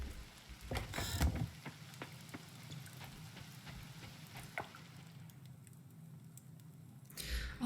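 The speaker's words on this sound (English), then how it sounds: "Although, you know, it's also rainy." Steady, soft rain falls in the farming game Coral Island, a faint hiss with a few scattered ticks and a brief louder patter near the start.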